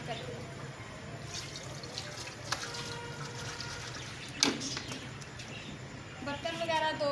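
Dishes being washed under running water at an outdoor village home, a steady close wash of flowing water with occasional clinks and a brief louder splash, birds faint in the background.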